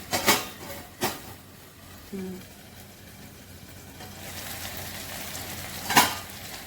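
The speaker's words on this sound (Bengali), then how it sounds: "তো এবার ভাজা হবে একটু ঢাকা দিচ্ছি" A soft, steady sizzle of banana stem and lentil dumplings frying in a covered pan, punctuated by a few clanks of a lid and utensils.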